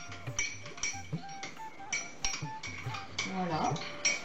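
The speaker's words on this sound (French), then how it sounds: "Sacha va mélanger en même temps que moi je verse le lait dans la tasse." A spoon stirs milk in a cup for golden milk, clinking against the sides in a quick, repeated rhythm, close and fairly loud, with a brief pouring sound near the end.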